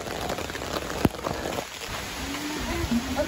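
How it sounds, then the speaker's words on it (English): Rain beginning to fall at Sigiriya Fortress in Sri Lanka, a steady soft patter of drops on surfaces with one sharp nearby knock and faint outdoor background sounds. "It's starting to rain."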